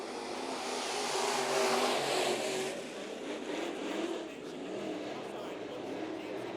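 Topless modified race cars at Bakersfield Speedway roar as the field takes the green, a loud continuous engine drone from several cars swelling and fading slightly, with an announcer talking over it.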